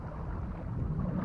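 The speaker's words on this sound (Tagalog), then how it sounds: "Mahangin na naman dito sa kabala." Steady wind blowing over an island shore near Tacloban, Leyte, a broad low rumble and hiss that stays constant and close to the microphone.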